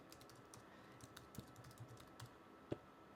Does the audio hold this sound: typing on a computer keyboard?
yes